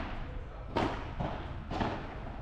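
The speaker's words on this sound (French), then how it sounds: "Oh, cette balle qui prend la bande." During a padel match, the ball strikes the side wall of the court, giving two dull thumps about a second apart over a steady background hum.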